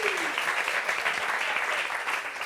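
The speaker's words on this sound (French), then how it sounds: "Applaudissements pour Greta, s'il vous plaît." Audience at a French gathering applauds steadily for Greta, a dense wash of clapping filling the whole stretch at an even level, with a faint voice sliding briefly at the start.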